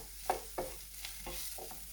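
Chicken and vegetables with smoked paprika frying in a pan for a frittata, a constant soft sizzle under a few scraping stirs of a utensil against the pan, close and brief, with no voices.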